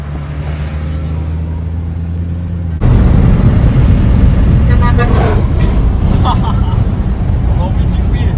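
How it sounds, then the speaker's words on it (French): Car horn toots sound amid loud road and engine noise, with voices talking over the traffic. "2 coups de klaxon de Dupi."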